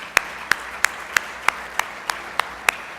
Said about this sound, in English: So how about a big round of applause for him?